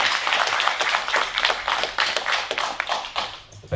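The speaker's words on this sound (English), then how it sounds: "It's the best round of applause of the night" Audience at a fireside chat gives a round of applause, close, brisk clapping with distinct individual claps that gradually thin out toward the end.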